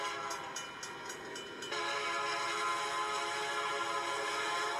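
A freight train loaded with containers passes in a train yard, a continuous loud rolling rumble and roar with a few rhythmic clanks at the start and the noise swelling as the cars go by.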